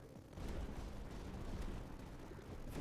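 Mortar fire in the video game Tower Dominion, a dense, rumbling run of low booms and blasts at moderate level that carries on steadily without a break.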